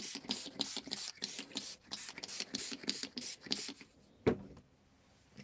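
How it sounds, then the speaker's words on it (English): Rapid bursts of spraying from a trigger sprayer, about a dozen short hisses in quick rhythm, close by, then a single knock and quiet. "So I'm just going to spray this now."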